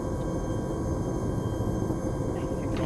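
A helicopter in the ArmA3 military video game produces a steady, dense engine drone and low rotor rumble that holds at an even level throughout.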